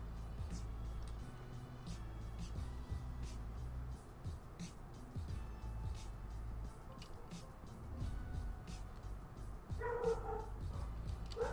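Dogs bark and yip in quick bursts over a steady low rumble from a neighbor's loud car, with a higher whining tone rising near the end.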